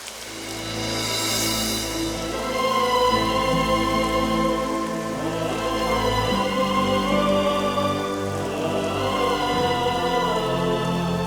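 Steady rain pouring down in a continuous dense hiss, a wash of drops on surfaces that holds at an even loud level throughout, with faint tonal background underneath and no voices.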